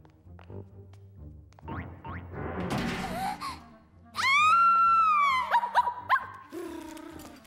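A cartoon puppy whimpers and whines in a run of rising and falling wails, loud and close, followed by a few short yelps, with soft background music beneath.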